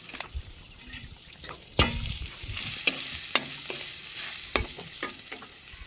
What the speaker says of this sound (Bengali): এই যে মশলাটা বানতেছে, এইটা রান্না হবে